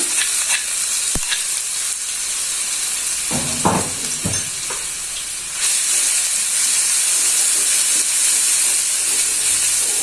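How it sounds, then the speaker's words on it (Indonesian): Racik fried-chicken spice paste sautés in a hot pan, giving a loud, steady, close hiss of sizzling oil broken by a few spatula scrapes, with no one talking. "Dan di sini untuk bumbunya ini saya tumis dulu"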